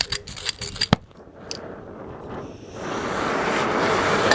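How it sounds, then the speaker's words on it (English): A torch ignites and roars steadily while heating a nut on a Fisher Speedcast plow bracket, with a few sharp clicks and taps first, then a rising broadband hiss of flame close to the microphone. "I'll crank up this torch."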